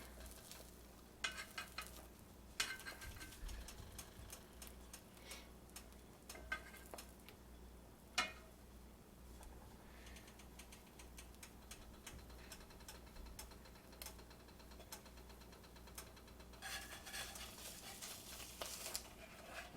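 Egg sandwich filling pushed around a frying pan with a utensil, soft continuous sizzle broken by scattered scrapes and taps against the pan bottom, quiet and close with no talk.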